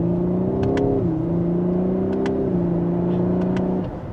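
A 2025 Lexus LS500 sedan with a 3.4 liter twin turbo accelerating in second gear, a smooth, steady engine drone heard from inside that rises in pitch and drops at smooth shifts, with faint ticking over it.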